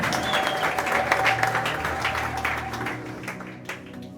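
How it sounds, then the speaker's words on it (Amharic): Church congregation at a prayer and teaching service clapping and ululating for the Lord, a loud sustained burst of applause with high trilling voices that tapers off toward the end. "እልልታ ጭብጨባ ለጌታ ይገባልና"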